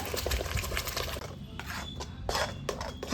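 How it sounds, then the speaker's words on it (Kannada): Ground masala for an egg curry being stirred and fried in a pan, a soft sizzle under intermittent scraping and clinks of a utensil against the pan, close but fairly quiet. "ರುಬ್ಬಿಟ್ಕೊಂಡು ಮಸಾಲೆನ ಸೇರಿಸ್ಕೊಳ್ಳೋಣ ಚೆನ್ನಾಗಿ ಫ್ರೈ ಮಾಡ್ಕೋಬೇಕು ಮಸಾಲೆನ"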